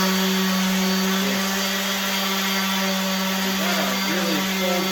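A power sander works on wood, a loud, steady motor whine with a constant tonal hum that holds throughout, with slight wavering near the end as the tool bounces on the surface.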